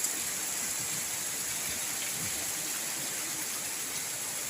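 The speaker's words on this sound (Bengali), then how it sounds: "এখন বৃষ্টিটা খুব জোরে এসেছে পুরো ধোঁয়ার মতো দেখো" Heavy rain pours steadily onto a garden, a dense continuous hiss that stays loud and even throughout with no voices.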